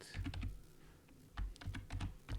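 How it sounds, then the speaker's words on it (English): Keys clatter on a computer keyboard during C++ programming, in quick bursts of clicks with a short pause midway, close and moderately loud with no speech. "at the end I'm gonna type cin.get"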